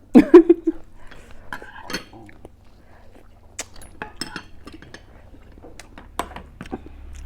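A new spoon clinks against dishes while salmon and fresh shrimp papaya salad is eaten, giving several light, scattered taps and clinks, clearest near the start, with quiet pauses between.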